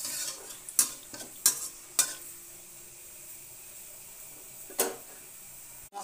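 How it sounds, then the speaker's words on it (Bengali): Black cumin seeds and a bay leaf fry in oil for a fish curry, a soft sizzle punctuated by a few loud metallic spatula knocks and scrapes against the pan. "কালো জিরে দিয়ে দিলাম, একটা তেজপাতা দিয়ে দিলাম। দিয়ে ভালো করে নেড়ে নিলাম।"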